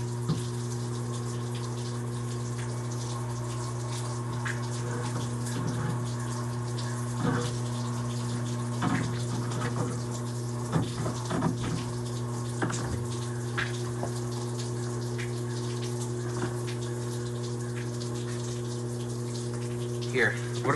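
Water and soapy suds pump out steadily while a truck bed is washed, a constant mechanical hum with a wet gushing wash running throughout, plus scattered knocks and splashes.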